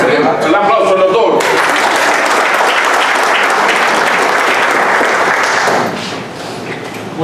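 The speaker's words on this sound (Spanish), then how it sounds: "Un aplauso al doctor." Loud audience applause at a mental health area swearing-in ceremony, a dense burst of clapping that follows a brief voice at the start and carries on for several seconds before easing off near the end.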